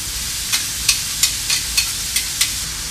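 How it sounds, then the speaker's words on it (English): Onions and mushrooms sauté with garlic in a pan, giving a constant sizzling hiss broken by about seven sharp, evenly spaced clicks of a utensil against the pan, with no voices. "Now we put in the rest of the onions"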